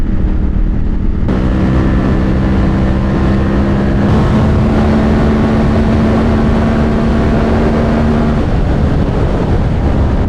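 Ducati Monster motorcycle riding, a loud continuous engine drone with rising pitch partway through, heavy wind buffeting the microphone and no speech.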